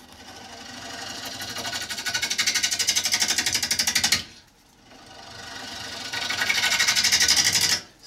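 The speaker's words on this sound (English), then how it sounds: "And then I have this swept-backed" A swept-back bowl gouge cuts wood on an electric lathe, giving two loud sustained bursts of buzzing, rhythmically pulsing cutting noise separated by a brief drop in sound, close and alone.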